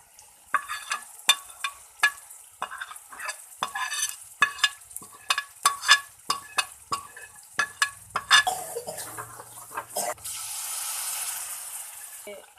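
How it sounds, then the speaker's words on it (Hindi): Onion and garlic paste with spices frying in oil for a spiced potato and flat bean curry, heard as irregular scraping stirs and clinks of a spoon against the pan over a sizzle that swells into a steady hiss at the end. "अब हम इसे अच्छी तरह से भून लेंगे जब तक कि हमारा मसाला पूरा ऑयल ना छोड़ दे"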